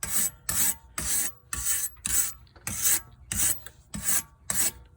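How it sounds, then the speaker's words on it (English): Rhythmic scrubbing rasps on a grimy, rusty brake hub of a 2007 Audi A8L D3, about ten short, evenly spaced back-and-forth strokes close up, with no talking. "Do a little cleaning, get some of that grime and rust off."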